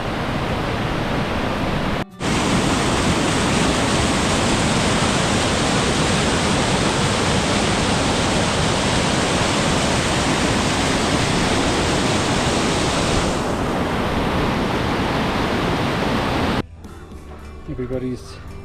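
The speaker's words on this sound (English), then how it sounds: "There's the river crossing." A river rushes loud and steady at a trail crossing on the Everest Base Camp trek in Nepal during the monsoon, a broad unbroken roar of water close by that drops away abruptly near the end.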